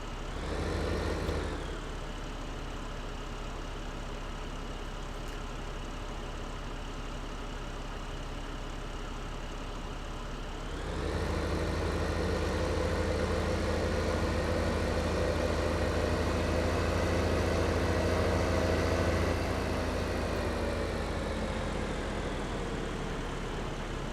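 A tractor engine in the Farming Simulator 15 video game runs steadily, a low droning hum that swells louder after a shift partway through and holds a constant throttle without talk.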